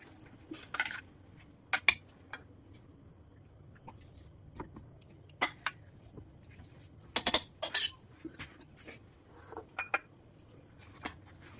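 Boiled eggs coated in spices are turned gently in a pan, heard as sparse, light metallic clinks and taps of a spoon against the pan over a quiet background.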